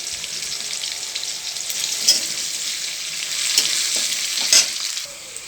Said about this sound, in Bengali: কুচনো পেঁয়াজ এটাকে ভালো করে একটু ভেজে নেবো